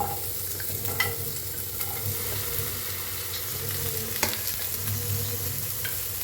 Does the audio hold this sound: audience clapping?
no